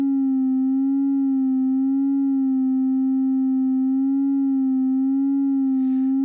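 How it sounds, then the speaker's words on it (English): A synthesizer sustains a steady, pure sine tone with a gentle, slow vibrato wobbling its pitch, even in loudness and heard alone throughout. "That kind of has a vibrato sound to it."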